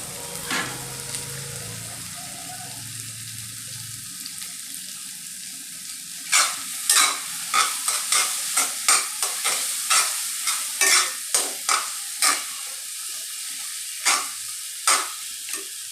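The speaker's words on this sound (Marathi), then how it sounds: "याला 7 ते 8 मिनटं हलवत राहायचं मीडियम गॅसवर" Mashed eggplant bharit, made without onion or garlic, frying in a pan over a medium gas flame, with a low sizzle and repeated sharp scraping strokes of a spoon stirring it, spaced about a second apart, close and alone.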